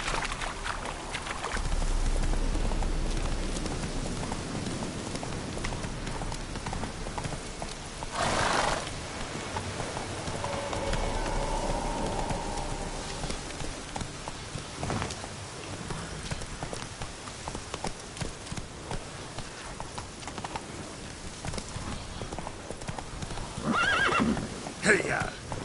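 Roach the horse galloping in a PS4 game, rapid hoofbeats and whinnies with background game ambience and loud bursts, steady gallop rhythm under intermittent sound effects.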